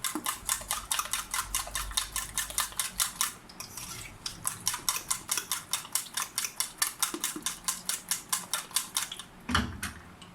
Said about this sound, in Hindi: मैं जो अंडे मैंने फेंटे हैं उसी के अंदर मैं चीनी भी शामिल कर लूँगी ताकि वो फिट जाए, साथ ही मिक्स हो जाए